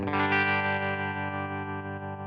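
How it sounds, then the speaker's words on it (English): One sustained electric guitar chord rings out with a wavering, pulsing high-intensity tremolo effect from a modeler, loud and fading slightly as it holds. "now I have my intensity on the tremolo be high"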